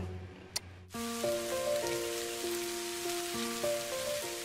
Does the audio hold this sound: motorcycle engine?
no